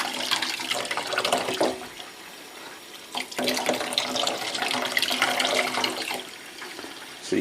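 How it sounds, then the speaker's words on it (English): Water running from a tap through a vape clearomizer atomizer, a continuous splashing rush with a brief drop in flow midway before resuming strongly. "You want to very carefully just run water through it."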